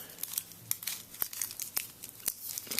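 Paper crinkles and rustles close up as it is folded over and twisted shut around a small pile of powder for a homemade prototype M80 firecracker, with a quick run of sharp crackles and small tearing sounds and no talking.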